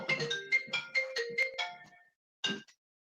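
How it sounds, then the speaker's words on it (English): A phone ringtone plays as a bright, repeating melodic pattern of short chimed notes for about two seconds, then one more brief burst after a short pause, heard alone and fairly clear. "my phone's ringing."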